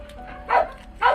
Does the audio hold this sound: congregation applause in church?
no